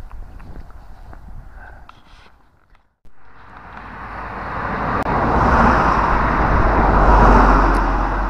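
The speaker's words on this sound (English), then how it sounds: "Traffic." Road traffic grows from a faint background hum into a broad, steady roar of passing vehicles, close and loud, after a brief quieter stretch.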